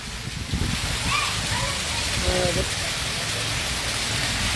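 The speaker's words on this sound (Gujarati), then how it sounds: "ગાગોદરમાં ભારે વરસાદ" Heavy unseasonal rain pouring down in Gagodar, Gujarat, in a dense, constant roar of drops on surfaces, with a voice faintly heard at the start.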